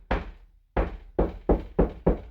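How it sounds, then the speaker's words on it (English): Knuckle knocks on a hollow section of wall between studs, six dull thuds: one, a pause, then five in a fairly even rhythm, close and clear with no talk. "So if I knock here, get a hollow thud"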